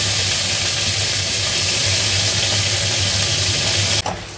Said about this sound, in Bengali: কুমড়ো শাকের ডাঁটা, একটু সর্ষে বাটা দিয়েছি, যে ভালো করে ভাজা ভাজা হয়ে গেছে